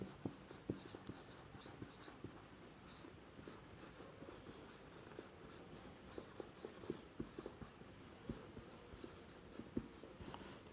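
Pen or pencil scratching on paper as a maths answer is written out, a run of soft close strokes and taps at an uneven pace, quiet and without speech.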